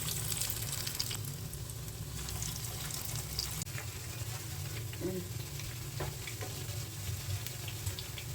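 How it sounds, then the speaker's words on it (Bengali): Lentil fritters (dal bara) made from blended lentil batter fry in oil with a soft, steady sizzle and faint crackle that runs unbroken at low volume, with no talking. "প্রথমে ডালের বড়াটা ভেজে নিব।"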